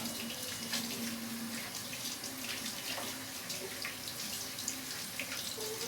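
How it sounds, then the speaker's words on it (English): A kitchen or bathroom tap runs steadily while hands are washed beneath it, a close, even hiss of flowing water with faint splashes shifting over it throughout. "I just need to wash my hands."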